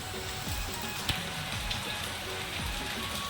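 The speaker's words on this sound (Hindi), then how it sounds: "बहुत ज़्यादा पानी गिरा थे, बहुत टाइम हो गए, लगभग आधा घंटा हो गए पानी गिरत" Heavy monsoon rain falling in Chhattisgarh, a quiet, steady patter of drops on surfaces with a few faint taps, continuous and without talking.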